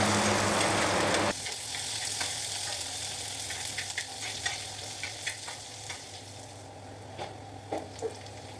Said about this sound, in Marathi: लसूण शिजला गेला की लगेच त्यात 2 बारीक चिरलेले कांदे घाला व त्यानंतर त्यात थोडं कढीपत्ता ॲड करून शिजवून घ्या